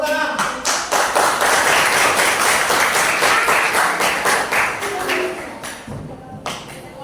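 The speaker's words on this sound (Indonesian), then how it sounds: "Nah, tepuk tangan." A classroom of pupils clapping hands together, a burst of loud, fast, overlapping claps that fades out near the end with a few scattered taps.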